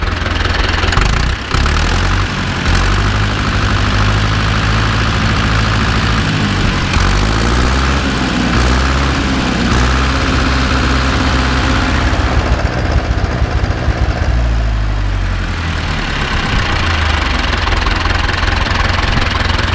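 An Ursus C-360 tractor diesel engine idles steadily and close by, a loud, even, low chugging rhythm that runs without pause for about twenty seconds with no talking.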